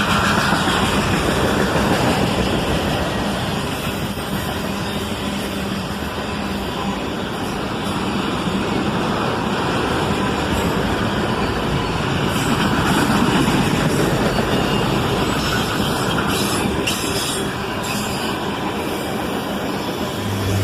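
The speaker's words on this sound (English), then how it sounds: "Auto-rack trains at sunset." A Canadian Pacific and BNSF auto-rack freight train, mostly empty cars, rolls past at sunset with a steady, dense rumble and clatter of wheels that holds for twenty seconds without talk.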